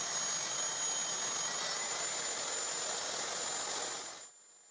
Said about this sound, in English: I will cut it with the table saw